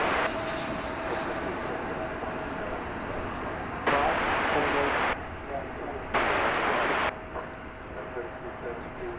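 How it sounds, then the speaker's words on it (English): An American Airlines Airbus A321, Flight 2647 from Los Cabos, Mexico, roars in on arrival at DFW Airport, a loud steady jet rumble with two brief bursts of wind-like hiss, while people talk over it. "Coming in now from Los Cabos in Mexico is Flight 2647, American Airlines,"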